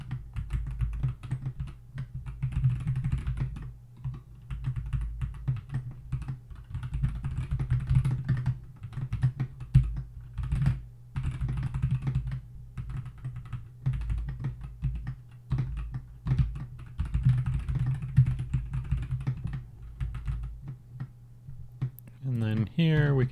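Fast, steady typing on a computer keyboard, close and continuous keystroke clatter running the whole time beneath someone talking.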